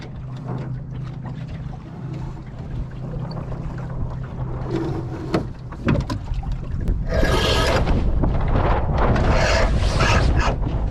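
Small sailboat sailing under jib toward Llangower, with water rushing and slapping against the hull and wind buffeting the microphone, growing louder and busier toward the end, close and without talking.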